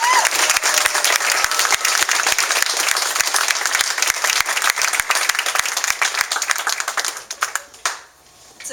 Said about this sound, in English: So would you please join me in a round of applause?